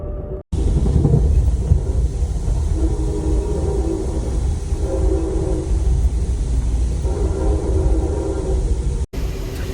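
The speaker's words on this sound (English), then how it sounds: "We're near the locomotive. You can probably hear that." An Amtrak Auto Train locomotive running close by, a loud steady low rumble and drone that holds throughout with slight swells, no talk.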